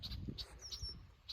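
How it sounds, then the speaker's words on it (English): Angry red-winged blackbirds defend a nest in a blooming chestnut tree, giving several short, sharp, high chirps spaced apart, faint and slightly distant against a quiet outdoor background. "Got some angry red-winged blackbirds yelling at me."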